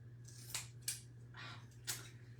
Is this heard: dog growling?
no